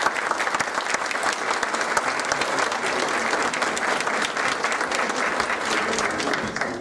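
A conference audience at a museum in Mexico breaks into strong, continuous applause, dense and even from start to finish with no speech over it.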